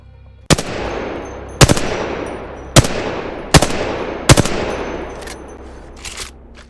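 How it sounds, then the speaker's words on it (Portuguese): Five sharp, loud gunshots crack at steady intervals on a training range in the video game Apex Legends, each followed by a long decaying echo tail, with a fainter sixth report near the end. "Cada disparo é importante, bem como a arma que você usa."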